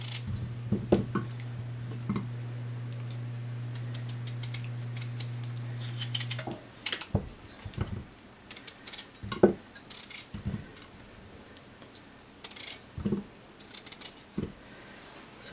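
A knife cuts skin-on potatoes on a cutting board in a home kitchen, giving irregular sharp chopping knocks that come in bursts and pauses, close and fairly crisp with no talking.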